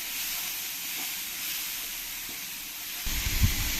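Onion paste frying in a pan for a pointed gourd and poppy seed curry gives a steady, close sizzling hiss, with a dull clunk of stirring near the end.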